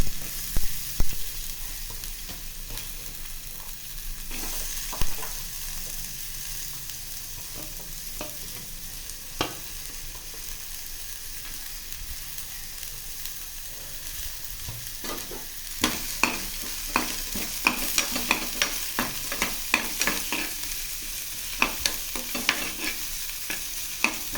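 Onions frying in a pan, a steady sizzle running throughout with scattered stirring scrapes and clicks that grow busier toward the end, no voices.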